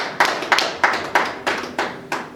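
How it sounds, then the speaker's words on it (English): Applause at a sports medicine gala night, heard as loud, close, evenly spaced individual claps, about seven in a steady rhythm. "a round of applause to this resident"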